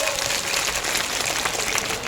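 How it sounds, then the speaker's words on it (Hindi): Applause from the audience at a farmers' rally in India, a continuous, fairly loud patter of many hands clapping at once, sustained and even for the full stretch with no voices on top. "जरा एक बार बापू सिंह जी के लिए जोरदार तालियां बजा दो"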